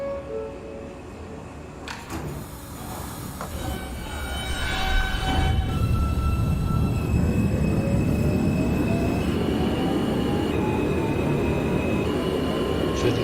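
An NYC Subway R160 R train in the OpenBVE train simulator, running toward Forest Hills–71st Avenue: a chime and door tones at first, then the motors and wheels rumble up and settle into a loud, steady ride with faint whining tones.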